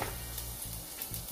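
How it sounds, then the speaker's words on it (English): Garlic hits a warm pan for Jamaican ackee and saltfish and sizzles steadily at low volume, a continuous hiss with faint stirring scrapes and no talk. "So now I'm going to add my garlic."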